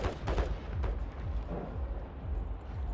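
Gunfire in the Call of Duty video game: rapid, dense bursts of shots and thuds rumble throughout the few seconds, loud and continuous, with no talk.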